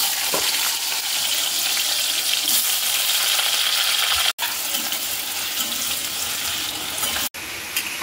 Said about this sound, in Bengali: আলুগুলো হালকা লাল লাল ভাজা হয়ে গেল